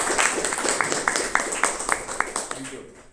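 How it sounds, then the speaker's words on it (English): Applause at a Toastmasters club meeting, a small audience clapping steadily for about three seconds in an even rhythm of claps, moderately close, fading at the end. "So please join me to have a big round of applause for this flawless."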